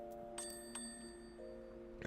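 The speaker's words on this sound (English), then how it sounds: "Ring the crystal bell, yes, even though I really don't want to." In the Final Fantasy XIV video game a crystal bell rings faintly, a few bright chime strikes that leave sustained ringing tones over a quiet, steady game backdrop.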